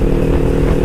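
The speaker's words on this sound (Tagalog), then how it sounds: "pag narinig niyo yung tunog ng bike ko" Motorcycle engine droning steadily and loudly while riding, a close, continuous rough roar with no voices.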